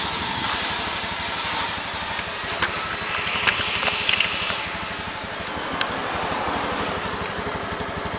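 A Honda BeAT FI scooter engine idles at the exhaust with a steady, rapid low putter, close up and constant throughout, with a faint high whine above it.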